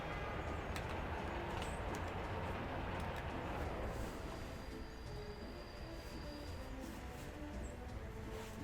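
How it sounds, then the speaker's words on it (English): A train rolls out in the Workers and Resources: Soviet Republic city-building game, giving a steady broadband rumble throughout with faint high squeals and chirps layered above it. "So our first train is rolling out."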